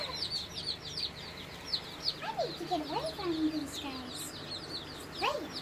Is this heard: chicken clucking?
yes